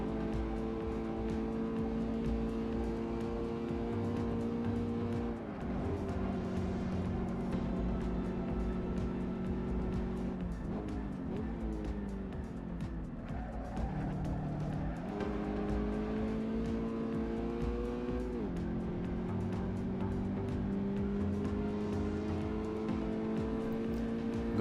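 A Toyota GT86 engine drones steadily around the Nordschleife in Assetto Corsa, its tone rising through the gears and dipping on each shift across a long continuous run, loud and unbroken with no talk.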